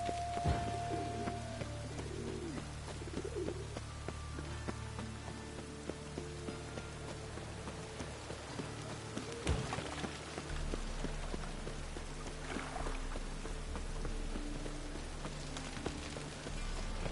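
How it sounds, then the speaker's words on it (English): Steady rain in the video game The Witcher 3: Wild Hunt patters across a surface throughout, with a low hum underneath and a few brief knocks and tones cutting in. "Rain again."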